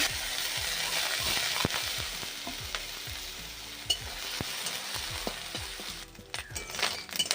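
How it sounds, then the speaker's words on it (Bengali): Cleaned small fish fry in hot oil in a kadai, a dense steady sizzle with spatters and occasional clinks of a utensil stirring, close and continuous. "কড়ার মধ্যে তেল দিয়ে দিয়েছি আর মাছগুলো পরিষ্কার করে ধুয়ে আমি নিয়ে চলে এসেছি এগুলো এবার ভেজে নেব"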